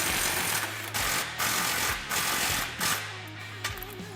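Mechanical clicking and ratcheting as an 18mm socket and wrench work loose the A-arm bolts on a Polaris RZR PRO XP, repeated bursts of close, fairly loud metallic turning with brief pauses between, no talking.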